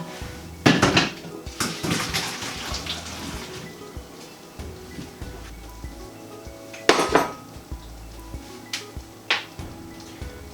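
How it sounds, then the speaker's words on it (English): Boiled potatoes are tipped from a pot into a kitchen sink, with metallic clanks and knocks of the pot and lid, a few sharp clatters, and a soft wash of draining water between them. "I'm just going to drain them into the sink"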